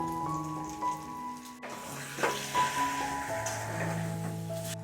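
Chicken pieces fry in a pan with spices and salt for biryani, giving a soft crackling sizzle with a faint background hum and no talk.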